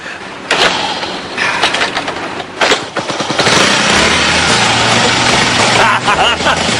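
A Honda Super Cub motorcycle's small engine cranks, catches and settles into a fairly loud, steady running buzz, with a person talking over it at times.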